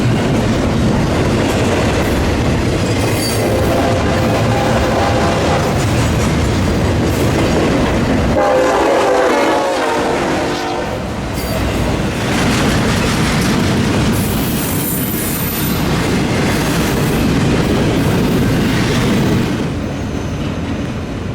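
A loud train rumbles past close by, with rattling wheels, clattering cars and a brief horn, sustained throughout.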